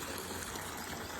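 Water pours steadily into a swimming pool at a farmhouse, a close, continuous rushing splash with no pauses.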